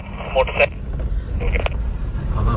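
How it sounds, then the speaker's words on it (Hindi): A heavy four-wheeled vehicle drives through jungle, heard from inside the cabin as a steady low engine and road rumble with brief clatters and knocks. "हम अभी गाड़ी में बैठे हुए, 4 पहियों का वाहन है, भारी गाड़ी है"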